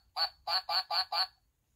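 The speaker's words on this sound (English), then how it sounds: "quacking with pleasure." A duck quacking five times in a quick, even series, each call loud, nasal and close.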